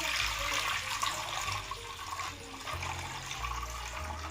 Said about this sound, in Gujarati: આટલું પાણી વેરશું અંદર.